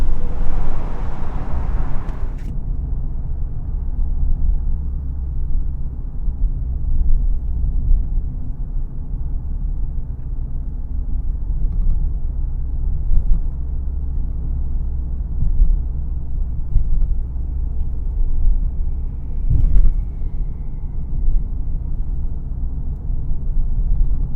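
Cabin of a 2024 Nissan Pathfinder Rock Creek driving on the road, heard in binaural audio: a steady low road and engine rumble throughout, with a brief brighter noise at the start and a faint click later, no talking.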